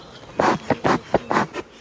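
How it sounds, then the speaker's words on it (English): Honey bees from a queenless colony buzz close by in several short, loud bursts, as if flying right past, with brief quiet gaps between passes. "Look at these bees."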